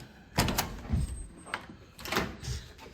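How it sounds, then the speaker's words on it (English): A heavy, tight hotel room door at the Balladeer Hotel opens with a few close thuds and latch clunks over a soft room hiss, with no talking. "Door's a little bit heavy, and it is a little bit tight coming in"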